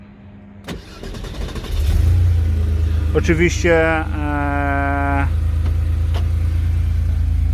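A Porsche 911 964 Turbo engine cranks briefly, fires up and settles into a steady, close idle hum; a voice speaks over it and a short tonal chime rings in the middle.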